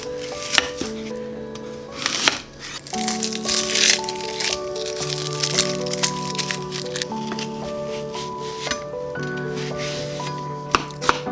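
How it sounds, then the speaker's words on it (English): A knife dices onions on a chopping board in quick, irregular knocks, heard under steady background music with tonal notes throughout. "Let's start by dicing our onions."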